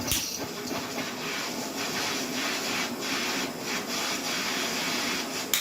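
A torch flame heats a broken pin inside an RCA jack of a Sony Trinitron TV monitor, producing a steady, close roaring hiss that holds evenly throughout with slight fluctuations.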